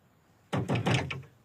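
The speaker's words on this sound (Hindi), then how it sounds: "मेपाश्री, कृपया करके दरवाजा खोलिए" Knocking on a wooden door in a Korean period drama setting: several close, firm raps in quick succession, heard alone with no talk.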